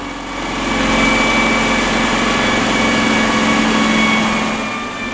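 A 1967 Camaro engine running steadily on a chassis dyno, a loud, constant drone that swells in and holds before easing off at the end.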